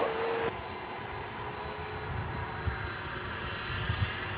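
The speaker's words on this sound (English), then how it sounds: "This is UPS flight 793." A UPS cargo jet, flight 793, at DFW Airport at night gives a steady distant engine roar with a thin high whine, holding level and slowly swelling, no voices.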